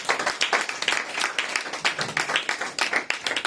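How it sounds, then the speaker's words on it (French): A church congregation applauding during a service, rhythmic rounds of hand clapping with uneven pulses, fairly close and sustained for a few seconds. "Acclamez pour la gloire du Seigneur."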